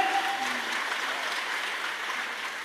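An audience claps at a Marathi kirtan, a dense and even round of applause from a large crowd that carries on moderately loud through the whole stretch.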